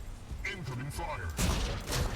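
Gunfire from mechs in the video game Mech Arena: dense, rumbling bursts of game weapon fire and booms, with a heavier volley midway, heard under a spoken voice.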